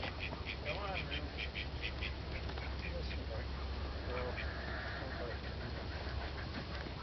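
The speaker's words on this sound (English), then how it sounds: "I gotta manually do the ducks. They're too smart." Ducks being herded alongside chickens outdoors, quacking in repeated short bursts at mid distance over a steady low rumble of background noise, with someone talking.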